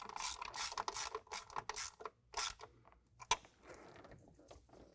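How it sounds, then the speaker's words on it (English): A ratchet wrench with a 13 mm socket tightens the posts of an S&B cold air intake on a Ford Maverick, making short, quiet bursts of clicking and scraping with brief pauses between strokes. "we're using a 13 millimeter to tighten these posts down"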